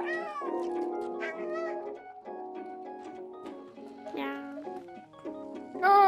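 Game cat in Stray meowing repeatedly, a string of fairly loud, close, melodic mews and trills with short pauses, some overlapping soft background game sounds.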